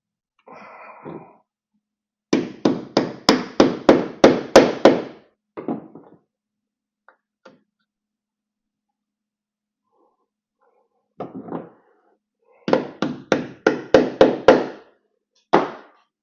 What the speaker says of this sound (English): And we'll go ahead and reinstall the push rivets.